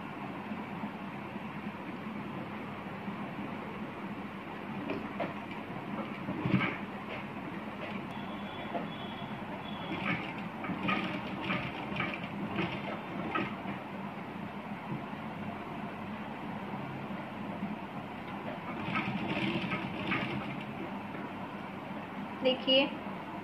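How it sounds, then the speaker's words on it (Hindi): Sewing machine stitching along the edge of a kurti collar, a steady faint mechanical whir running throughout with someone talking over it. "किनारे किनारे हमें इसके ऊपर सिलाई लगाते जाना है"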